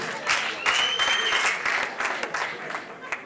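Enthusiastic audience applause at a live comedy show, dense clapping that swells and stays loud throughout, with a host's voice speaking over the crowd.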